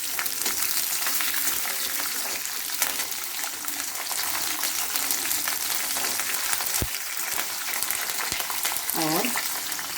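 Green chillies and peanuts frying in hot oil for coconut, lemon or curd rice give a steady close sizzle and crackle, with a few sharp pops and faint background voice.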